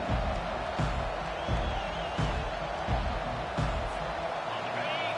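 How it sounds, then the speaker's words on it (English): A packed stadium crowd roaring at a Miami versus Notre Dame college football game, a dense, continuous wall of noise with dull thumps recurring about every second or so. "This crowd, full throat, spreading the eardrums and letting them know it's going to be a long day."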